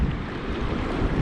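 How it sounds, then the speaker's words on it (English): An e-bike rolling through a saltwater crossing produces a dense, continuous rush of splashing and wash, loud and close, with wind roaring across the microphone and no voices. "Did a little water crossing there."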